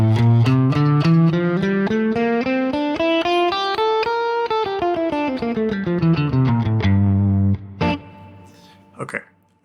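G Dorian mode played up and back down as a smooth run of notes on an instrument through distortion and chorus effects, loud and sustained, ending with a few scattered plucks.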